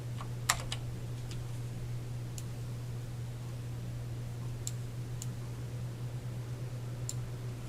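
Keyboard shortcut keys are pressed on a computer while working in Photoshop, giving a few faint, scattered clicks over a low steady hum.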